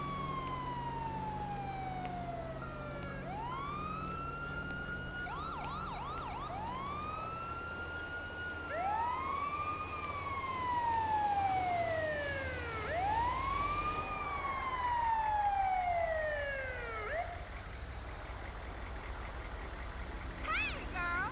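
An ambulance siren in Grand Theft Auto V wails in long rising and falling sweeps over a low engine rumble, fairly loud and sustained for most of the stretch.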